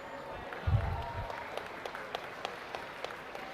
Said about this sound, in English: Let's go ahead and give a big round of applause to all of our young people out here.